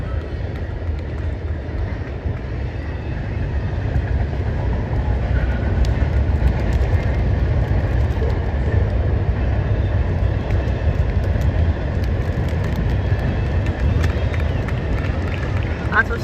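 A long freight or passenger train rolls past a ball field during a baseball tournament game in Brockville, a loud, steady rumble and rattle that holds from start to finish with no break.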